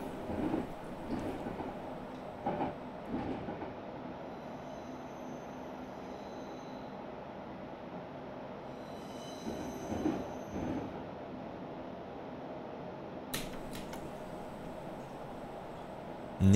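A Berlin S-Bahn class 481 electric train in a train simulator game runs along the track with rumbling wheel noise, occasional clunks and brief squeals, and a sharp high screech near the end.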